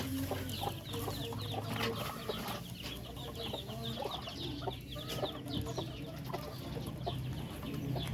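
Steady chorus of ducks clucking and chattering close by at feeding time, many birds calling at once with no talking.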